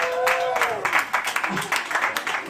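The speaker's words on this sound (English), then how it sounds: "everybody just started clapping" Audience breaking into applause on a talk show, a steady wash of many hands clapping with a voice talking over the start.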